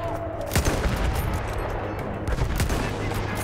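Gunfire in the video game Battlefield 1, with bursts of shots cracking over a constant low battlefield rumble. Several sharp reports stand out among the rattle, and someone talks quietly underneath.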